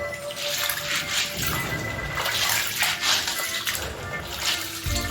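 Soaked dried breadfruit (ukwa) is washed by hand in a basin of water, with steady sloshing and splashing that swells in rhythmic surges throughout, close and fairly loud.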